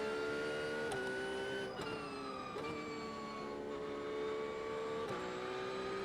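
A Porsche GT3 992 race car engine in the iRacing sim at Willow Springs holds a steady high-pitched drone, with several quick gear shifts and dips in revs; continuous and fairly loud, no voices.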